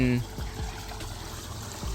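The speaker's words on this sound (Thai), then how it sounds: "ก็จะมีน้ำไหลลงมาในตรงนี้นะครับ" Water flows steadily into an opening in a channel on a farmland plot near Naresuan University, a continuous trickling rush heard close by under someone talking.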